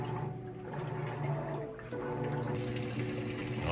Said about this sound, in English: now we got that drain running